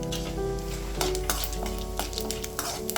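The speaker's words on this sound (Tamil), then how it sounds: "ஒரு கடாயில் எண்ணெய் சேர்த்துட்டு கடுகு, கடலைப்பருப்பு" Mustard seeds and chana dal fry in hot oil in a kadai, a steady close sizzle broken by frequent sharp pops and crackles as the seeds burst, with faint stirring clinks.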